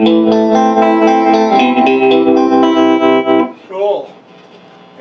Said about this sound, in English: Tremolo works.